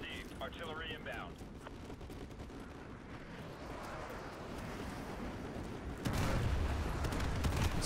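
Artillery fire called in during the Call of Duty Modern Warfare 2 Campaign Remastered, a dense rumble of gunfire and blasts under talk, with a heavier, louder barrage of impacts landing in the last two seconds.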